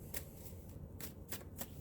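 Tarot cards being shuffled by hand, with several brisk riffling bursts over a low background murmur, close up and fairly quiet.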